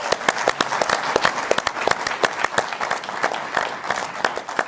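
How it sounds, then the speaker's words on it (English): Studio audience applause on a live football talk show, a steady patter of many hands with sharp, distinct claps, moderately loud and sustained throughout without talk over it. "Round of applause."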